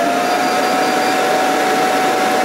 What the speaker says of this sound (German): und jetzt geht der Haartrockner